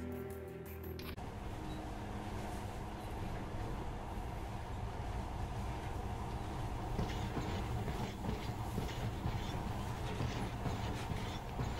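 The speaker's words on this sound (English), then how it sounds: "In the past, trains were ordinary things, but now, this monorail seems magic, doesn't it?" A monorail train in the video game Metro Last Light Redux rolls along with a steady rumbling drone and faint rhythmic clatter, continuous and evenly loud after a brief mechanical start.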